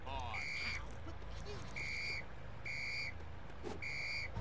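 In the Lego City video game, a whistle sounds in four evenly spaced short shrill blasts over steady background noise and game ambience.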